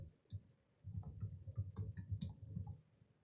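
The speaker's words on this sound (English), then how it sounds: "So what I'm going to do is type the same name right here." Quiet, close typing on a computer keyboard: a brief tap, then a steady run of soft clicking keystrokes for about two seconds, with no talk.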